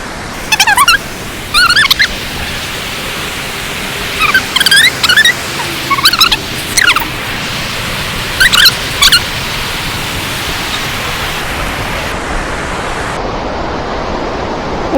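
Salmon-river rapids rush in a constant broadband roar of fast water, with a few short, sharp bird-like calls breaking through in scattered bursts.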